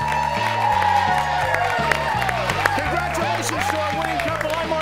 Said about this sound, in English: all this applause is for you